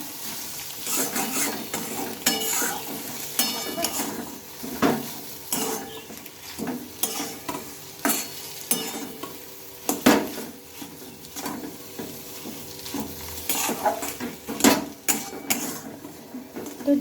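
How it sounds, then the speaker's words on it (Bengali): Boiled potato and grated egg mixed together in a pan, a utensil scraping and knocking against the metal in an irregular series of close taps and scrapes, with no talking. "আবারও আমি একসঙ্গে সবগুলোকে মিশিয়ে নেব"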